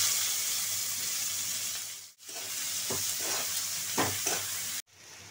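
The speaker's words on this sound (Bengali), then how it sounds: "এবার পেঁয়াজগুলো দিয়ে দিচ্ছি।" Onions frying in a pan with chili for a papaya and egg curry, a steady loud sizzle with a few stirring scrapes, cutting out briefly twice, no talking.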